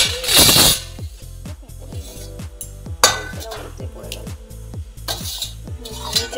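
A lid being set over soaked sago in a home kitchen: sharp metallic clatters and clanks come in a few loud bursts, with softer knocks between them over a low steady hum.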